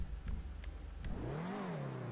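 A virtual Obey 10F sports car with a chrome street exhaust in GTA 5 revs in a series of short, sharp blips, then a longer rising and falling rev, heard close and alone.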